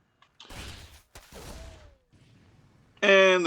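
Rapid gunfire bursts from Reaper units in a StarCraft Terran versus Zerg match, crackling shots in two clusters followed by a loud harmonic unit sound effect at the end.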